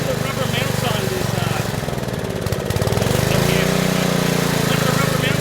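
Abandoned Generac generator engine running after a carburetor replacement, a steady loud mechanical drone with rhythmic pulsing as a loose rubber mount lets it bounce, the pitch shifting briefly midway before settling.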